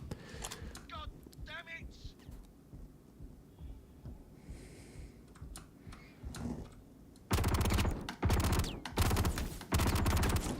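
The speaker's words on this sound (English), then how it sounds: "I'm shooting through the shields." Rapid bursts of weapon fire in the space game Star Citizen, shots punching through shields, arrive in loud repeated volleys near the end after a stretch of quieter ambient rumble and scattered clicks.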